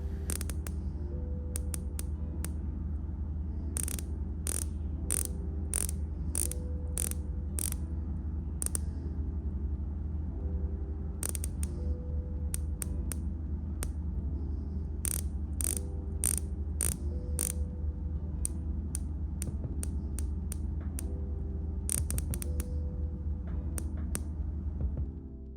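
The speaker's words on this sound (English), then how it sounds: "Let's check the bezel action." The rotating bezel on a stainless steel Tudor Black Bay 41 watch clicks close up in quick bursts of crisp ratchet clicks separated by short pauses, set against a faint steady background hum.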